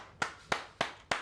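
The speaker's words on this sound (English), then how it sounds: "Round of applause for Dalai Lama." Four sharp, evenly spaced hand claps ring out close by, greeting the Dalai Lama at a casual gathering. No one talks over them.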